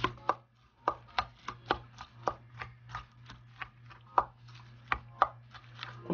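Okonomiyaki batter gets mixed in a bowl, a steady run of sharp taps and clacks of the utensil against the bowl at a brisk, even pace over a low constant hum, close by and with no talk.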